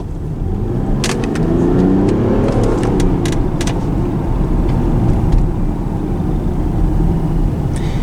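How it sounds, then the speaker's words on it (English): A 2023 Range Rover pulling away, its engine rumbling and rising in pitch as it gathers speed, steady road noise underneath and a few faint ticks from inside the cabin. "you have to be very careful with the acceleration of this Range Rover"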